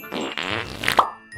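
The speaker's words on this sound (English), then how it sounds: "Wizard and magical fart blasting." A cartoonish fart sound effect from a comedy sketch: a loud, buzzy, sputtering blast lasting about a second that ends in a wet little pop, with nothing else around it.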